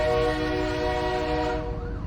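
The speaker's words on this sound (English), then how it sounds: "Train started leaving to the last station just after he left." A train pulls out of a station with a sustained, loud tonal horn or whistle over a low rumbling engine, holding steady before the pitch begins to shift near the end.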